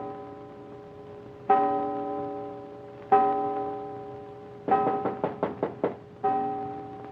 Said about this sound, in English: hear him knock on that door